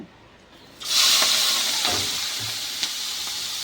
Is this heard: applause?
no